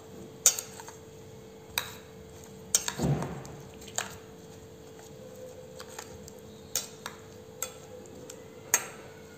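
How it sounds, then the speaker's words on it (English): Ugadi pachadi with mango pieces is stirred in a bowl, with sharp, scattered clinks of a spoon against the dish at irregular intervals and a soft scraping swirl in between. "Now I'll mix it."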